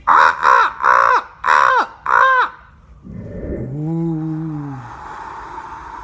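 A human voice imitating a crow, giving five loud, evenly spaced harsh caws close up, followed by a lower drawn-out croaking call that fades into breathy noise.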